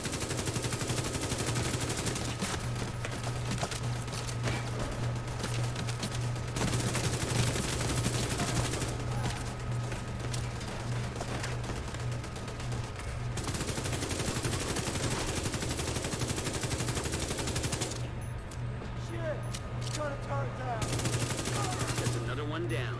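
Rapid SMG gunfire bursts in the video game The Division 2 come in long strings separated by short pauses, loud and up front over game sounds, with someone talking throughout.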